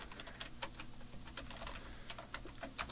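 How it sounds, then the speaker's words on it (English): Someone types on a computer keyboard, pressing the return key several times; the soft, close clicks come in an uneven rhythm and stay quiet throughout. "I'll hit the return key on my keyboard a few times to give myself a little bit of space"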